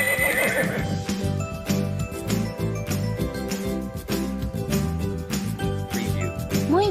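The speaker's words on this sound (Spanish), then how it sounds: "Muy bien, ese es el caballo." A horse neighs and whinnies over continuous background music with light jingling, its rising, wavering call in an animal-sounds quiz for children.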